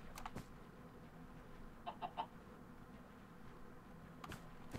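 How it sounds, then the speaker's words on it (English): A chicken in a blocky survival video game clucks in a short burst of three quick notes near the middle, with a couple of faint clicks, over a low steady background hum. "That chicken."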